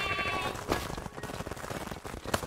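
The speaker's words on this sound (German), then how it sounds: "Ja, und die nächsten Schafe sind drinne." Sheep bleating in the video game Craftopia, a couple of short bleats over busy game sounds at moderate loudness.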